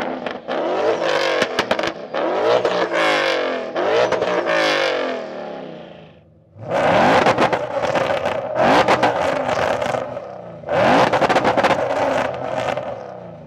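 Two Ford Mustang GTs of roughly 950 to 980 horsepower, one twin turbo and one supercharged, revving hard in repeated loud bursts, with rising pitch and a brief dip between the two sets of revs, no talking.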